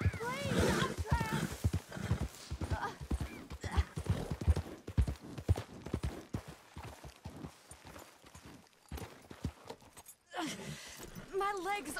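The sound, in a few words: horse hooves, from a video game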